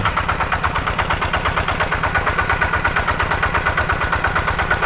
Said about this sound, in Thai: เป็นรถไถเดินตามใช้เครื่องยนต์ดีเซล